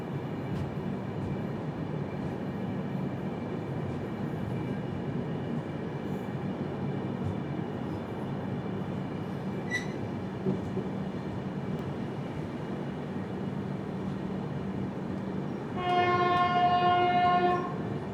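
The 16334 Trivandrum–Veraval Express rolls along a loop line, carrying a steady low rumble of wheels and carriages for the whole stretch, with a loud horn blast sounding near the end.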